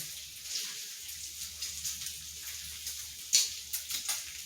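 Bacon sizzles steadily on a hot griddle while smash burgers are being made, a continuous bright hiss broken by scattered pops and crackles, with no one speaking.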